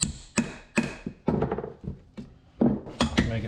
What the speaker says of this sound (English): Break out my favorite little hammer